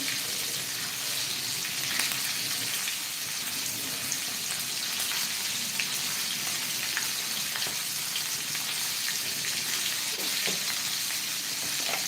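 Mackerel (bangda) frying in a pan over a low flame, a steady crackling sizzle with small pops, even and moderately close throughout.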